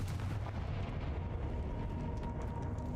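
Confringo fire spell explosions in a Harry Potter–style video game: a dense, continuous rumbling blast with deep booming low end, steady and loud throughout with no talking.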